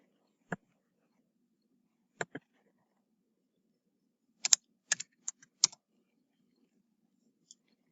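Sparse clicks of keys on a computer keyboard as an equation is entered into the Desmos graphing tool, a few isolated taps then a quick cluster, close and fairly quiet over a silent background.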